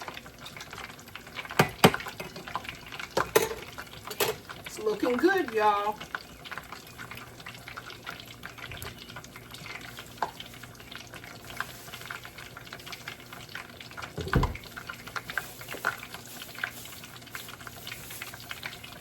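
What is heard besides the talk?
chicken frying in peanut oil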